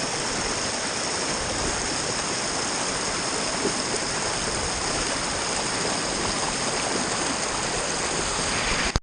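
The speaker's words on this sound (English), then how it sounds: "We're sitting on a waterfall." Constant rushing roar of a waterfall in Arches National Park, close and loud, pouring without pause.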